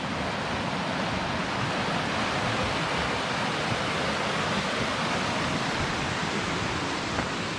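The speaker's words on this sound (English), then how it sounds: "Check out Nooksack River above Nooksack Falls" The Nooksack River rushes just above Nooksack Falls in a steady, loud, broadband roar of whitewater that holds constant throughout, with no voices.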